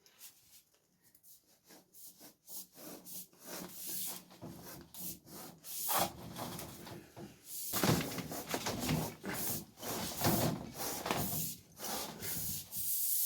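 A plastic sleeve for a water pipe is pushed and worked into a hole in a wall, giving repeated rough scraping and rubbing bursts that grow louder and more forceful toward the middle, close by with no talking.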